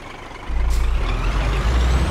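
A heavy truck in Euro Truck Simulator 2 pulls forward after reversing, its engine rumbling low and steady right after a sharp hiss of air brakes releasing, with no talking.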